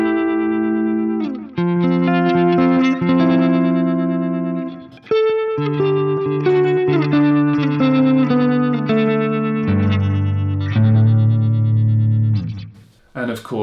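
Guitar through an EHX Stereo Electric Mistress flanger with the rate turned up high plays sustained chords and notes under a fast sweeping whoosh, close and fairly loud, with no speaking.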